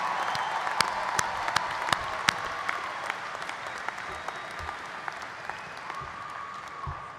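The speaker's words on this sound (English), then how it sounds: "How about a round of applause for the jazz band and the choir and the interpreters?" A commencement crowd applauds a jazz band, choir and interpreters, producing a fairly distant wash of clapping with a few sharper individual claps standing out, fading slightly toward the end.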